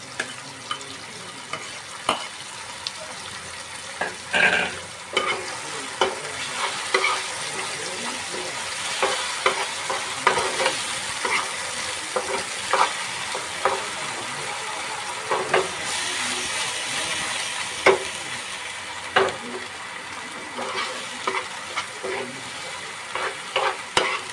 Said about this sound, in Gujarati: તો હવે આપણા ટમેટા સડી ગયા છે એટલે હવે આપણે નાખીશું ડુંગળીનો પેસ્ટ